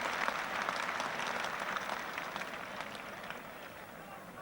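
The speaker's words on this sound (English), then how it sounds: "I'm not sure whether the applause was for the majestic shot or the lovely stop by Logie." Cricket crowd applauding at a 1991 England versus West Indies Test match, a broad, steady wash of clapping from a large stadium crowd that holds level throughout and fades only slightly.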